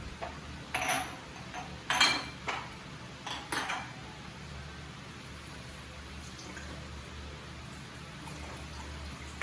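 Dishes clinking as a mother cleans up in a kitchen: a few quiet clatters and taps of plates and utensils early on, then a low steady background hum.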